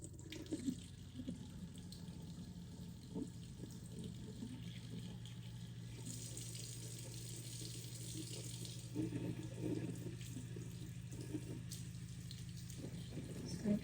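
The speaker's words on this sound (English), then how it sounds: "I'm gonna put the water on now," A sink tap runs steadily as skincare prep begins, a continuous close hiss of flowing water that holds level throughout, with no talking over it.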